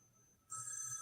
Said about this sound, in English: Just the sound effect of the phone.